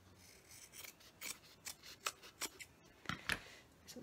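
Small scissors snip through fabric in a series of short, crisp cuts, irregular in rhythm and close by, with no talking.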